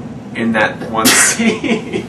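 A single sharp sneeze bursts out briefly in the middle of close conversational speech, with talking both before and after it.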